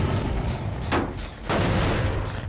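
Two sharp bangs about half a second apart as an overcharged generator is kicked in the video game Dead by Daylight, standing out over a steady, dense wash of in-game background noise.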